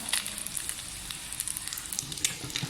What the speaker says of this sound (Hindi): तो यहाँ पर मैं फ्राई कर रही हूँ कबाब।